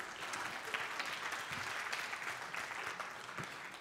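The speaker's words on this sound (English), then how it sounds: "Everybody give Sarah a round of applause back here" A church congregation applauds, a broad, even wash of many hands clapping heard at a distance, sustained throughout with faint crowd murmur beneath.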